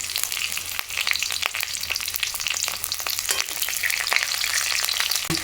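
Panch phoron spices crackle and sizzle in hot oil with green chillies, a dense steady frying hiss broken by sharp pops and spatters, close and continuous throughout.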